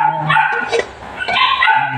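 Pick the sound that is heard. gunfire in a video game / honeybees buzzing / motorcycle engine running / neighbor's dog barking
neighbor's dog barking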